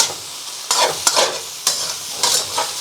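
King prawn fried rice stir-fried in a wok over high heat on a domestic range: a loud, steady sizzle with several bursts of scraping and tossing as the rice is turned.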